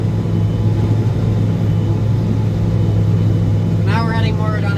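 A farm tractor pulling a corn silage chopper through a field with its differential lock engaged, its engine rumbling in a steady low drone throughout, with someone talking briefly near the end.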